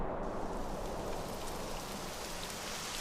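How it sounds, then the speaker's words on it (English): Rain starting to fall in the Dragon Quest XI video game: a steady, even hiss of rainfall that holds at a constant level throughout, with no talk. "It would have to go and start raining, wouldn't it?"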